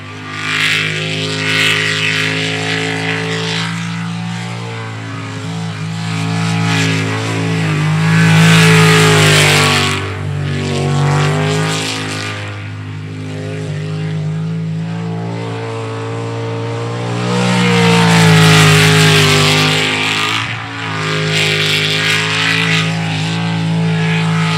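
Sprint race boats at an ASBR Stihl pro racing elimination round rumble loudly at idle, then roar up with rising, droning engines as they launch and pass close by, fading and swelling again.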